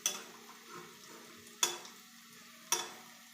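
Puffed-up pieces frying in oil hiss softly and steadily, broken by three sharp scraping knocks of a spatula stirring them, spaced about a second apart, close and fairly quiet.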